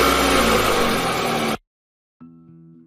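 A car engine revs loudly and steadily in an animated story, then cuts off abruptly into silence before a quieter idle hum resumes.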